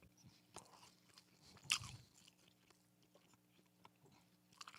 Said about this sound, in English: Sorry if you have to listen to my chewing.